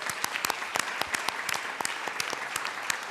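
Legislators in the Colorado House chamber applaud, a thinner scattering of distinct, crisp hand claps heard at moderate volume and slightly distant, continuing steadily without voices.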